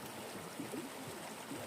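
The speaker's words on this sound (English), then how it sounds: "This is the side stream." A creek-side stream beside the Allegheny Trail flows steadily, a constant soft rush of water with faint gurgles, quiet and even throughout with no voices.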